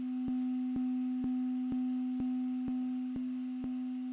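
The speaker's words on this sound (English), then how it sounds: "Now let's play with the notch filter." A Sonic Potions LXR drum synth repeats a pitched drum hit about twice per second while its notch filter is swept. The sound is a steady sine-like tone with a short click on each beat, fairly quiet and with no talking.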